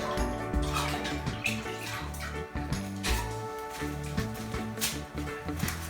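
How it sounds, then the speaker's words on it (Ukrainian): Tap water runs and splashes steadily while a finger is rinsed under it, with uneven gurgles and small knocks against a sink through the whole stretch. "Витираємо миємо палець."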